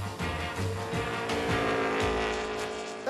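A 1950s race motorcycle engine at the Manx Grand Prix, a loud, raw, continuous roar with shifting pitch as the bike revs and accelerates close by.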